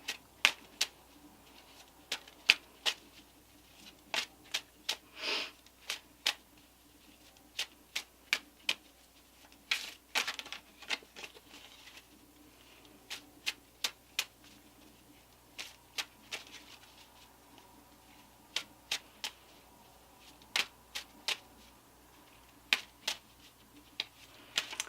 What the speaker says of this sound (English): We'll shuffle and pull one card out to see what is up.